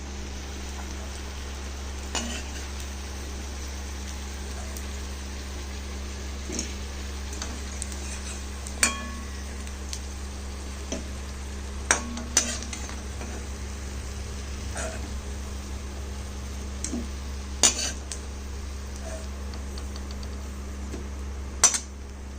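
Curry leaves fry in a pan beside a low steady hum, with a soft continuous sizzle broken by occasional sharp clinks and taps of a stirring utensil against the pan.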